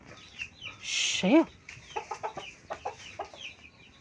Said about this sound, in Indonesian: Beginilah pitik ning omah.